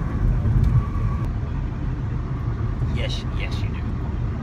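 Car cruising on a Kansas highway during a road trip, a steady low road-and-engine rumble filling the whole stretch while a person talks over it.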